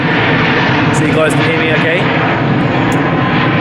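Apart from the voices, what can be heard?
airplane flying over near an airport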